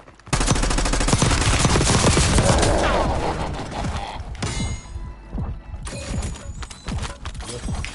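Dense, sustained automatic gunfire from Warzone Resurgence on Rebirth Island, first a long continuous burst, then choppier bursts with mechanical clicks and clatter, loud and close, with faint voices under it.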